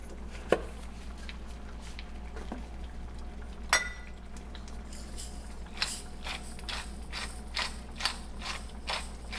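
A pepper mill grinding pepper into tomato sauce for pizza or pasta, a run of quiet, rhythmic ratcheting clicks close by over a low steady background hum, with a few sharper ticks earlier.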